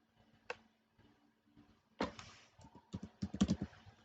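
Keystrokes on a computer keyboard, a few isolated taps followed by a quick cluster of clicks, close and crisp in an otherwise quiet room.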